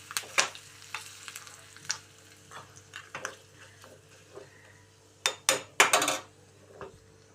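Curry leaves hiss and crackle as they drop into hot tempering oil for brinjal curd chutney, with a bright burst of sizzling. Metal spoon clinks and pan scrapes sound close by before and around the burst.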